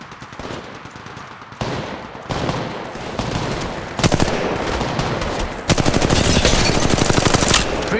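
Sustained automatic gunfire from the mobile shooter Apex Legends Mobile, dense rapid bursts that build and grow louder over eight seconds, with overlapping weapon fire and no speech.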